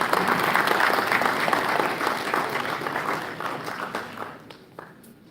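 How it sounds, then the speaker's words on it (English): Applause from an audience at a college event welcoming the next speaker, steady dense clapping that is loud at first and then thins out and fades over several seconds. "Let's all welcome her with an applause."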